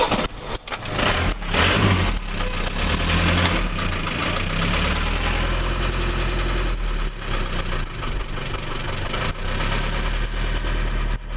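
Old 1990 Iveco Daily 35-8 diesel engine running close up, a loud rough idle with knocking clatter that settles into a steadier drone.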